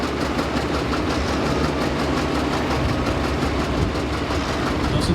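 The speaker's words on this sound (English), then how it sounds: "It's kind of different watching your own tractor around the track." A pulling tractor runs at a county fair tractor pull, a dense, loud, continuous engine roar with rhythmic pulsing throughout, heard from nearby with no talk over it.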